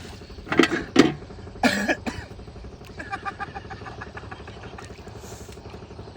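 A few harsh coughs burst out close by, two quick ones then another, followed by quieter clattering and a steady motor hum in the background.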